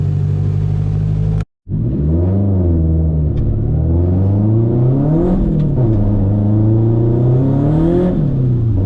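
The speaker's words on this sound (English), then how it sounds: "There's a Toyota Supra." A Toyota Supra's engine revs up and down repeatedly, close and loud, with rising and falling pitch sweeps after a brief cut near the start.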